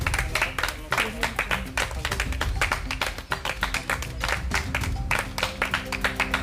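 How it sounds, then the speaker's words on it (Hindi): A crowd claps at a community event honouring health workers, a loud, dense patter of hands that keeps up steadily, with voices faintly underneath. "ताली मारिए।"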